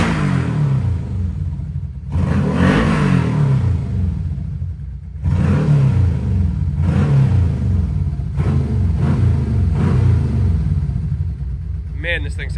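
1986 Suzuki Cavalcade GV1400 motorcycle engine running on a dirty carburetor, a loud close rumbling idle broken by several throttle blips that rise and fall, with brief speech near the end.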